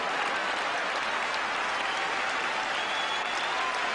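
Home supporters at a Sunderland versus Aston Villa Coca Cola Cup match in 1993 applaud after a goalkeeper's save, a dense, steady wash of stadium clapping and crowd noise throughout.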